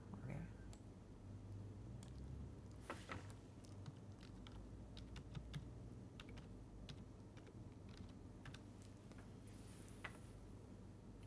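Typing on a computer keyboard, a quiet run of light key clicks in uneven bursts with a few sharper taps, set against a low background hum.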